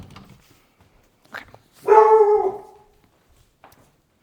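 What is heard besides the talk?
puppy barking excitedly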